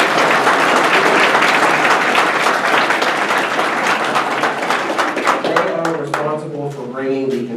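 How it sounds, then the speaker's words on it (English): A large audience claps loudly and steadily in a dense, sustained round of applause that starts to thin near the end as a voice resumes speaking. "give them a round of applause"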